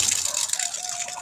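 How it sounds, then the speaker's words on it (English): Rainwater gushing steadily out of a rainwater harvesting pipe with a flush-fit fitting, a continuous broadband rush with light rattling, close and fairly loud, with no talk over it. "That's water coming out."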